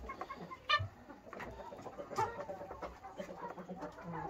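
Laying hens cluck and murmur continuously at moderate distance, with a few louder squawks standing out from the flock's busy background chatter.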